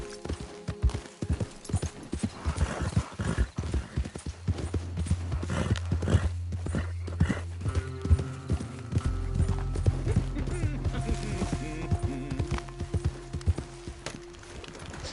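Horse hooves clip-clopping at a steady gallop in Red Dead Redemption 2, with occasional whinnies, a continuous low rumble building under the hoofbeats, and faint game voices in the background.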